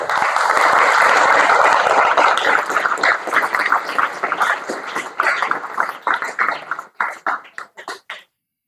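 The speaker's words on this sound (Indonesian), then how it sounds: "tepuk tangan untuk kita semuanya hari ini" A hall full of boarding-school students at an Islamic pesantren in Bogor claps together. The applause is loud and dense at first, then thins into scattered claps and fades out over several seconds.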